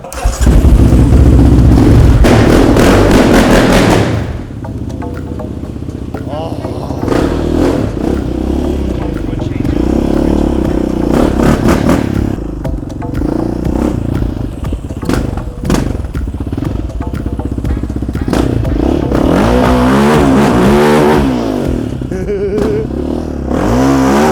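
A quad bike at the Santa Pod drag strip revs hard while attempting a burnout, a loud, sustained engine roar with rising and falling revs over about twenty-four seconds, and people talk over it.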